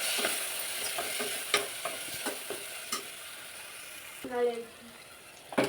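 Garam masala and coriander powder being stirred in a pan with oil for a cabbage and peas masala gravy: soft scraping stir strokes with a few light knocks over a low sizzle, close up.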